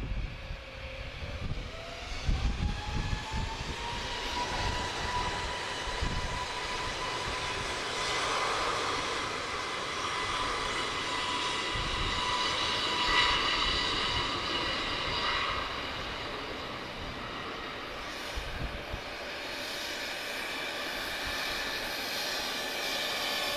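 A TAP airliner arriving at the airport rumbles and roars, a broad steady engine noise with a rising whine, loud and sustained as it passes without any talk.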